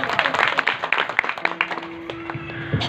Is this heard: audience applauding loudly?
yes